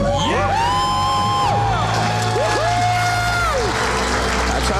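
A studio audience cheers, whoops and applauds loudly after a debt-free scream, with rising and falling yells over steady clapping for the whole stretch.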